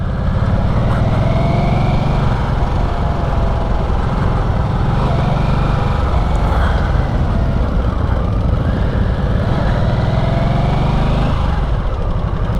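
A 2022 Harley-Davidson Sportster Nightster motorcycle engine running steadily nearby with a mechanical clacking note in its idle, a loud continuous drone with slight wavering throughout and no talk.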